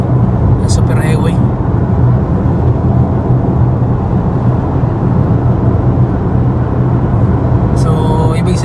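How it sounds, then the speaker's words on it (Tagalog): Highway traffic on a Queensland super highway, cars driving past in a constant broad roar that stays loud throughout, with a voice talking over it. "Sasakyan guys, oh, ang super highway"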